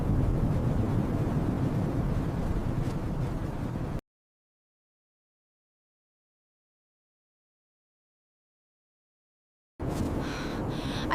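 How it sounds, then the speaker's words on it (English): Strong wind roars and buffets the microphone at a winter solo campsite as a loud, dense rumble. It cuts to silence for several seconds, then the gusting returns briefly. "The wind is picking up, Mali."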